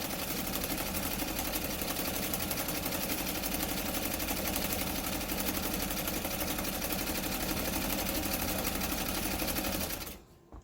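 A White 565 sewing machine runs continuously for about ten seconds, a fast, even mechanical whir and needle patter close by, stopping abruptly at the end.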